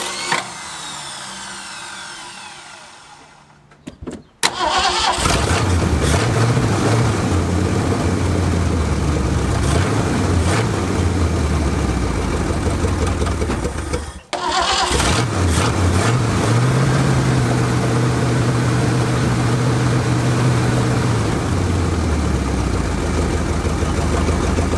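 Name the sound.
Ford Galaxie car engine running after five years parked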